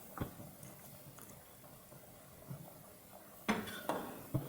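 Green chillies and lemon juice being mixed into a pot of beef tahari, quiet metallic clinks and scrapes of a spoon against the pot, with a few louder knocks near the end and no voices.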